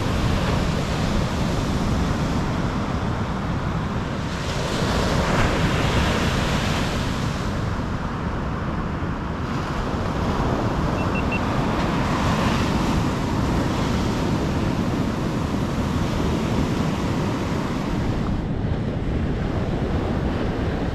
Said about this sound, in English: really big water. Big waves.